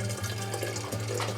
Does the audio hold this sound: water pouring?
yes